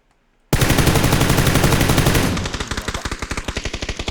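Rapid automatic gunfire from a video game, a loud sustained burst that shifts into a steady run of distinct close shots, with no speech over it.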